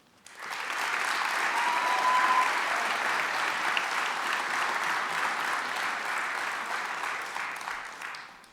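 Applause at a graduation ceremony held in Hof: a large audience claps steadily and evenly for about eight seconds, a dense sustained wash that tapers off at the end.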